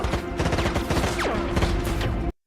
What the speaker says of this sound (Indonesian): Anya yang berhadapan dengan anak buah Yusuf kembali terkena tembakan